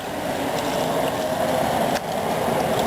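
Water running steadily from the condenser of an essential oil still, a continuous close trickling hiss with an even level and a brief dip near the end.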